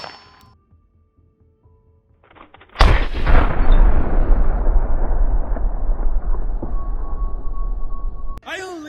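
A Staccato XC pistol fires a loud, sharp report at close range, and the blast decays into a long roaring echo. A quieter click and faint noise come first, and another sharp sound is heard at the end.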